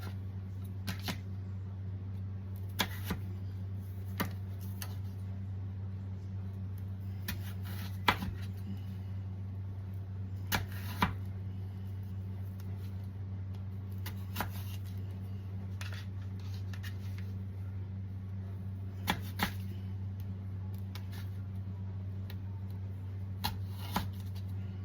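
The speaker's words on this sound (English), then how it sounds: "And then I'm going to cut them into small cubes." A knife taps crisply and steadily on a cutting board while potatoes are cut into small cubes, with scattered soft chops over a constant low hum and no talking.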